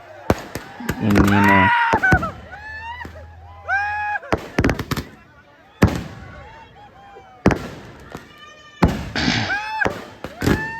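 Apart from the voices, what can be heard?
fireworks and firecrackers at New Year celebration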